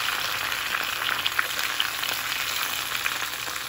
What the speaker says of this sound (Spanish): ahorita vamos a sofreír lo que es el tomate y la cebolla